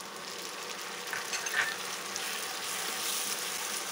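Chopped onion and coarsely ground tomato frying in a pan for dhaba-style soya chap, a steady close hiss and sizzle throughout with a brief scrape of stirring near the middle, no voices.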